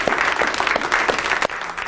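Applause rings out in a drug court courtroom, a steady patter of clapping hands from a modest group, close and continuous throughout.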